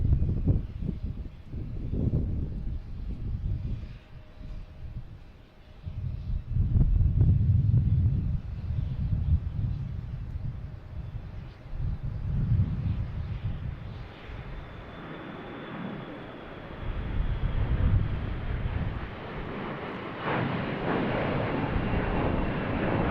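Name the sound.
airliner Flight 1432 on takeoff roll at Boston Logan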